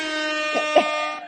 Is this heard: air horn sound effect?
yes